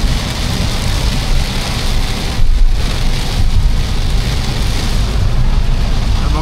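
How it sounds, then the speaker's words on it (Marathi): Heavy rain pours steadily and loudly over a vehicle travelling across the Atal Setu sea bridge on a Mumbai to Konkan trip, a dense continuous hiss with no voices. "पण आज खूपच पाऊस आहे।"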